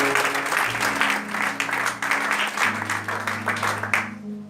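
A church congregation applauds steadily for several seconds, a dense wash of clapping over a sustained organ or keyboard chord that shifts pitch midway, fading out at the end.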